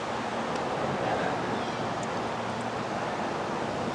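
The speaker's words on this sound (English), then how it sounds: "The wind is howling out there." Steady wind roars over a small back creek on a fishing outing, a constant broadband rush like buffeting surf that holds at one level throughout with no voices.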